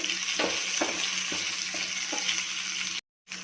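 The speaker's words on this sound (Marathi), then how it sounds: "आता मी याच्यामध्ये बारीक चिरलेला कांदा ॲड करते परतून घ्यायचं आहे" Finely chopped onion sautés in a pan for vermicelli pulao, a loud steady close sizzle with a few soft stirring scrapes, cutting out briefly near the end.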